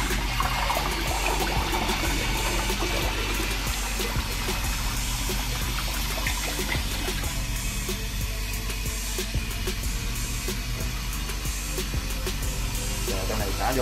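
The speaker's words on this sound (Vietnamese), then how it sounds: "Rồi giờ mình xả, mình nhấn nút mình xả rồi cho nó chảy tiếp." Toilet flushing after a new flush valve seal was fitted: a steady, loud rush of water runs unbroken for the whole stretch, close by, with no clear voice over it.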